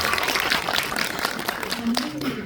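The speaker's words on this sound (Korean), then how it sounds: "박수 한번 부탁드립니다" Audience applause at a post-screening guest-visit Q&A for a Korean film fills the room as a dense, steady patter of clapping, with a voice speaking over it toward the end.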